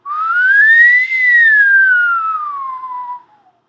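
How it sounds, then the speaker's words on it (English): A single clear whistled tone sliding up then gradually down in pitch, steady and close, lasting about three seconds with a brief dip midway. "So I'm just going to whistle here."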